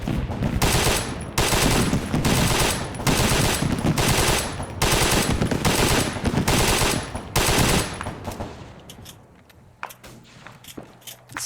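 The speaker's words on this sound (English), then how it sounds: "This is such a cute little SMG." Submachine gun fire in the video game Arma 3, several loud sustained bursts in steady rhythm, then the shooting tapers off into scattered faint sounds and quiet.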